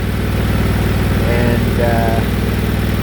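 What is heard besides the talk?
Briggs & Stratton replacement engine running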